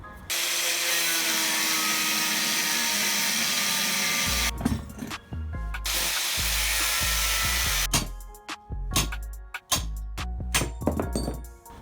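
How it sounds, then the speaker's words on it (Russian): An angle grinder whines steadily for several seconds cutting along a weld seam on a Ural motorcycle frame, then cuts in and out in short bursts with metallic clinks between them, close by. "нужно вот здесь и с обратной стороны по сварочному шву отрезать болгаркой"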